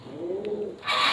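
A pigeon coos in a loft, a low rolling call rising and falling for most of a second, followed by a brief burst of broadband rustling or scraping at the end.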